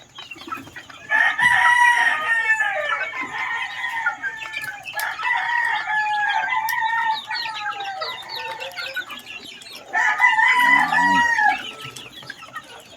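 Chickens cluck and chatter steadily in a coop of vaccinated birds, including Boston-type fowl, with a louder burst of clucking and crowing near the end; fairly close and continuous, no talk.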